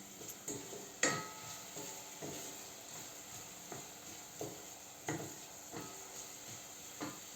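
Food sautéing in a pan with paprika, a steady soft sizzle under a series of sharp clinks and scrapes of a utensil against the pan at irregular intervals.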